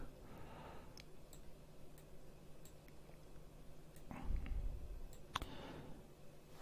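A few sharp, quiet computer mouse clicks, spaced out, while a multiboot boot drive is set up, with faint background rustle and no talk.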